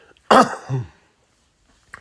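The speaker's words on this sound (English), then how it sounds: "let me clear my throat" A person clears their throat once, with a short, loud, rough burst followed by a lower voiced rumble, then quiet with a faint click at the end.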